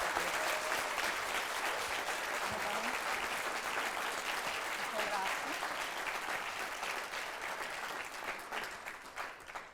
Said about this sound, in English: can we give one more FOMO-inducing massive round of applause for our speakers today?